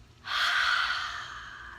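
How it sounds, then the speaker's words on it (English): One deep, slow breath let out in a long, steady exhale during a calming exercise, close and alone, starting softly and fading gradually. "just take a deep, slow breath and then let it out"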